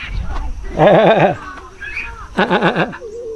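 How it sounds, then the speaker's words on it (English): Two loud, close goat bleats, wavering and nasal, separated by a brief pause with faint background noise. "here's our goats that we can feed."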